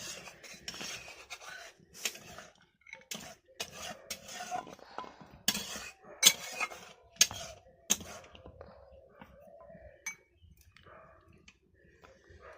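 Taro roots being scrubbed and washed by hand in water in a home kitchen: steady close rubbing and scraping with intermittent clattering knocks against a pot or bowl, with no talking.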